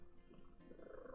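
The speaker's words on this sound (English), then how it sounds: "Just let me know if her purring is like too loud." A cat purring close to the microphone, a low rumbling continuous vibration, quiet and steady throughout.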